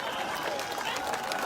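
Dense crowd applause fills a large outdoor political rally, steady and loud throughout with a murmur of voices and a few scattered shouts mixed in.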